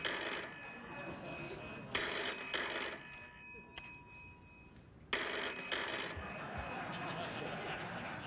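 A telephone rings on a late-night talk show set, bursts of bright trilling bell tones repeating in a steady pattern with brief gaps between rings, loud and close with no talk over it.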